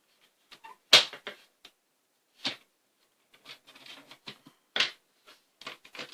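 Paper card stock for a scrapbook album being cut, heard as short crisp snips and rustles in irregular bursts, close and quiet with silence between.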